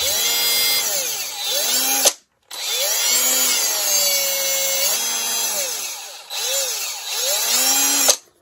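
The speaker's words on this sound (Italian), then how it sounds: "Ma stavo quasi dimenticando di farvi vedere che la punta gira perfettamente dritta" A Teccpo PHD100D 18V cordless drill spinning its bit freely, a loud close whine with rising and falling pitch that runs in bursts, cutting off briefly twice before starting again.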